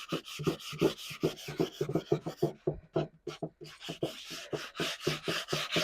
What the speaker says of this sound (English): I'm going to switch to my coarse grit and kind of hit the edges on top here